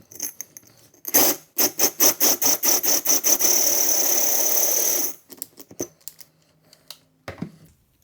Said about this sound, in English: so we're going to swap back to the other drill bit